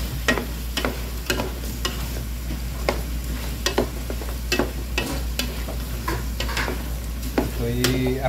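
Potatoes fry in a pan with adobong chicken under a steady loud sizzle, while a utensil scrapes and clacks at irregular intervals as the mixture is stir-fried.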